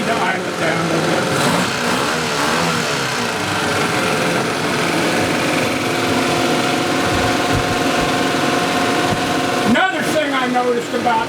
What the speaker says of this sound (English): Maybe need to idle it down a little bit.